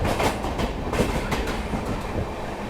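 The Amrit Bharat train rolls along the tracks, heard from on board with a loud, steady rumble and rhythmic clickety-clack of wheels over rail joints, continuous and close with no voices.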